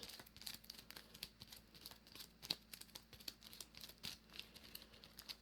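Mage Knight board game cards being shuffled, a run of quiet, close crinkling flicks and snaps in quick irregular bursts over a low hum, with no talk.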